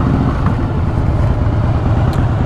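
Steady loud engine roar from a Yamaha R6 motorcycle, a continuous dense rumble with no distinct revving peaks, heard close up.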